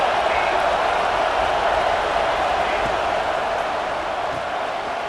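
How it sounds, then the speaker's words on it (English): Stadium crowd noise in the EA Sports College Football 26 video game, a dense, steady roar of massed fans holding at an even level throughout. "Listen to this crowd."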